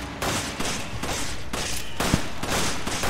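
Rapid pistol gunfire in the co-op video game Resident Evil 5, a steady run of loud shots about every half second over a dense, noisy game soundtrack.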